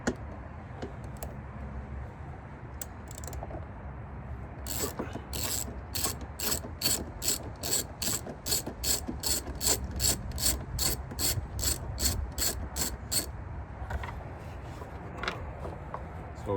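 A ratchet fitted with a 10mm socket and extension backs a screw out on a 2019 GMC Canyon, starting with a few scattered clicks, then a long, fast, evenly spaced run of sharp close ratcheting clicks, then quieter handling.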